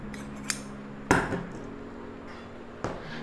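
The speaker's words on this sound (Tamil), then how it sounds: "கொஞ்சம் எக்ஸ்ட்ராவே விட்டு கட் பண்ணிக்கங்க." Scissors cutting blouse lining fabric in a few separate snips: a sharp click near the start, a louder crisp cut at about one second, and another near the end, each standing alone against a quiet room.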